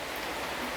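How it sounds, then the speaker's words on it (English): Heavy rain pouring steadily outdoors in the Derbyshire Dales, a dense continuous hiss of drops with no gaps, moderately loud and with no voices. "it's raining very heavily"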